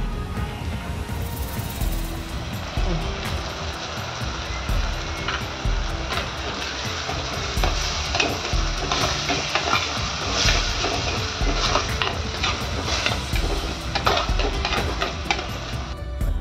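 Squid curry cooking in a pan with tomato, ginger and garlic, a continuous loud sizzle of frying with repeated scraping clicks of stirring that grow busier after a brief quieter start.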